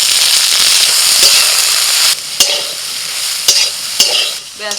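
Soaked, squeezed soybean chunks dropped into hot oil alongside frying drumsticks, giving a loud, close burst of sizzling and spitting that eases after a couple of seconds, followed by sharp crackles and pops.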